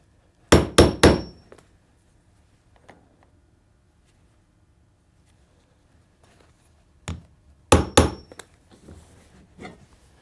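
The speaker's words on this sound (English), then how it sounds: "So with a little bit of hammering, we'll get it to mirror that curve." A hammer strikes a leather welt on a handmade cowboy boot to bend it to the curve, coming as two tight bursts of three sharp close knocks separated by quiet, with a few lighter taps between.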